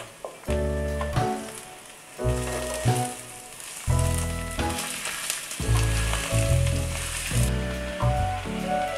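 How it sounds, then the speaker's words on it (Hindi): Boiled mustard leaves hit hot spices in a pan, giving a steady close sizzle and fry hiss throughout, under loud rhythmic background music with no talking. "अब हम इसमें बॉईल की हुई सरसों शामिल कर देंगे।"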